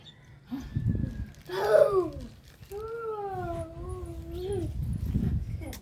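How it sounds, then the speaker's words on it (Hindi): A dog whimpers and yips in a high, wavering whine, several drawn-out cries in a row, close by, with a voice talking low underneath. "वो डरावना कुत्ता है।"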